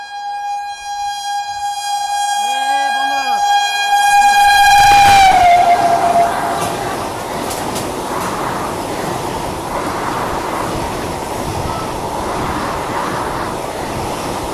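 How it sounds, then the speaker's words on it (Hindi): An NJP–Howrah Vande Bharat express overtakes amid heavy rain, sounding a long, loud horn before giving way to a sustained rumbling roar of passing wagons. "अभी आपने देखा कि एनजेपी हावड़ा वंदे भारत जो है ना वो ओवरटेक कर गई हमें"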